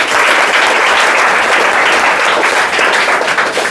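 Students at a classroom prize ceremony break into loud, sustained clapping from many hands at close range, holding steady throughout without a pause.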